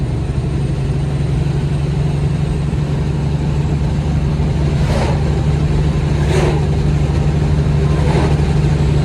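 A loaded Peterbilt 379 truck hauling a step deck trailer accelerates with a steady, droning engine roar heard from inside the cab, loud and continuous, with a few faint higher hisses cutting through.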